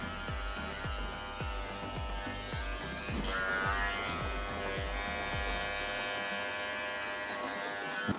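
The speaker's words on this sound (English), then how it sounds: "You can really listen to the clipper cutting the hair." Electric hair clipper buzzing as it cuts hair during a fade haircut, a close, steady hum with rhythmic pulses as the blades pass through the hair, with no voices.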